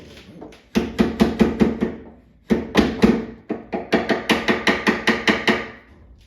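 Sharp metallic hammer taps on a pinball machine side rail land in quick rhythmic bursts, three runs of evenly spaced strikes separated by brief pauses, close and loud.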